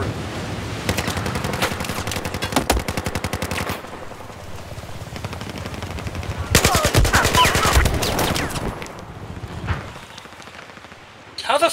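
Automatic machine gun fire in Battlefield 4, with dense rapid bursts in two long strings separated by quieter gaps, close and loud, followed by scattered shots and game noise.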